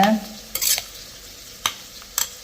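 Vegetables with salt and turmeric are stir-fried in a pan: a few spaced scraping strokes of a spatula over a faint, close sizzle.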